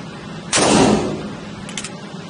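A single loud gunshot from a Ruger Blackhawk .41 Magnum revolver at an outdoor shooting range, a sharp blast with a lingering decay, followed by faint clicks.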